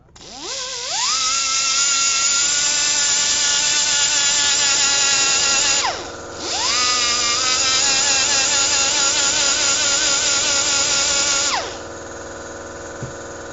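A loud air compressor runs in a workshop during repair of a CRKT folding knife. Its whining motor rises on start-up, drones steadily, dips and restarts, then winds down near the end.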